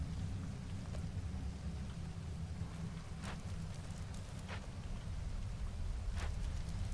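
Storm rain from the video game Against the Storm, a steady wash of rainfall with occasional brief crackling bursts over a low rumble, continuous and moderately quiet with no talk.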